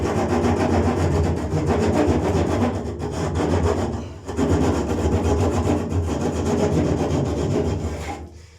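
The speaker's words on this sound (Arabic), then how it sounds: "تنديرو واحد الخطوط بالمنشار" A hand saw cuts lines into plaster with loud, close, continuous rasping strokes that pause briefly once before grinding on steadily.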